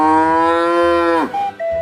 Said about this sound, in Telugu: కుక్క కాదురా ఆవులాగా ఉంది.